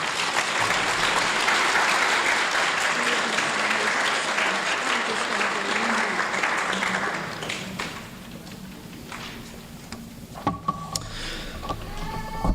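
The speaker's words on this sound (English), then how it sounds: "So if you all would give a round of applause to Lily Shoemaker." An audience at a community college student awards ceremony breaks into sustained, full-bodied applause for about seven seconds. It then thins to scattered claps and murmuring, with a few sharp knocks near the end.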